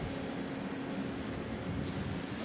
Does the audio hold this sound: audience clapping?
no